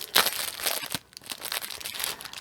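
Crinkly plastic wrapping being pulled open and crumpled around packaged wool roving for needle felting, close and continuous with sharp crackling bursts and brief tearing sounds.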